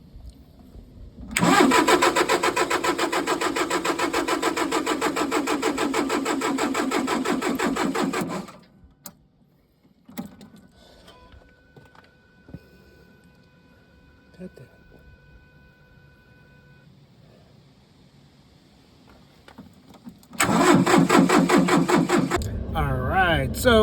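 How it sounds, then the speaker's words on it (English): An old tractor with a balky engine cranks and catches, running roughly for several seconds before cutting out. After a stretch of quiet, someone speaks and faint tones are heard, then the engine fires again near the end. "It kind of starts, it kind of runs, but dies after a second."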